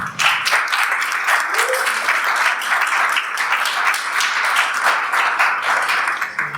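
Audience clapping at a startup pitch night, a full, even round of many hands, loud and sustained, with a brief voice rising faintly beneath it.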